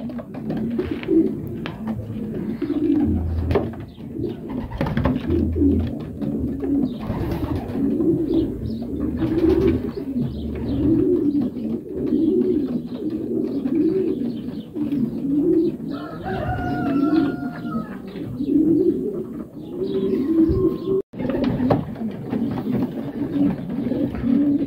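Pigeons cooing steadily in a breeding loft, a dense rhythmic chorus of low, rolling coos from several birds close by, with a few higher calls and a brief sharp knock near the end.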